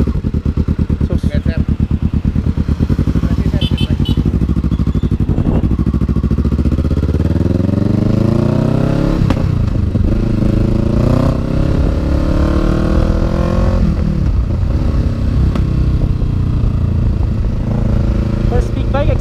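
Kawasaki big bike motorcycle engine while riding, a loud continuous engine drone with rising and falling revs and gear changes throughout, heard up close with wind and road noise mixed in.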